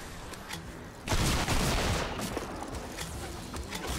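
Gunfire in the video game Fortnite: a burst of rapid shots erupts after a quieter start and continues as loud, overlapping reports before tapering off.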